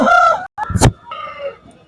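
A rooster crows loudly and close by at a country chicken market, with a short clucking burst in the middle.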